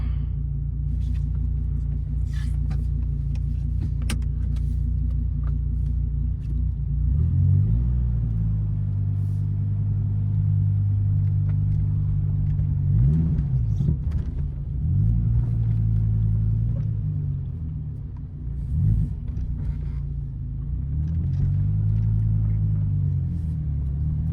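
A 2013 Dodge Viper SRT rumbles low and steady on the road, its engine note rising and falling in a few gentle swells as it drives, heard from inside with no voices.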